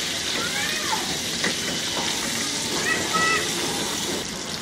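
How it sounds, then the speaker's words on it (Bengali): Pieces of spiny gourd (kakrol), seasoned with turmeric and salt, fry in hot oil over medium heat, a steady hissing sizzle close by with a faint voice behind it. "এর মধ্যে দিয়ে আমি কাঁকরোলগুলোকে একটু ভেজে নিব।"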